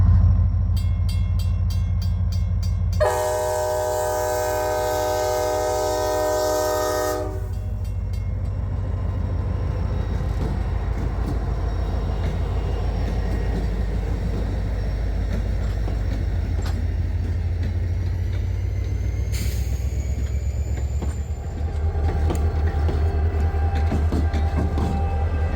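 A freight train rolls past a road crossing: a long, loud horn blast opens, then a steady heavy rumble and clatter of railcars fills the rest, with crossing bells faintly audible and no speech.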